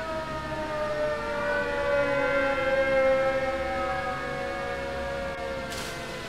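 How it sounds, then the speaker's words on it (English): Several sirens wail at once in the distance, their rising and falling tones overlapping in a continuous, eerie drone. "it sounds like there's multiple siren"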